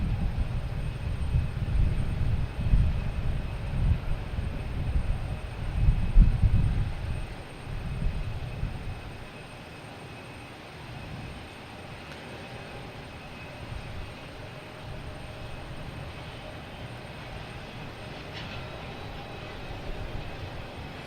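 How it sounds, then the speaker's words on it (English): A Delta Airbus A321 jet taking off at Boston Logan Airport, a deep engine roar loud at first, then fading into a lighter distant rumble as it climbs away. "I think they got clearance to take off. Delta heading to Orlando, an A321"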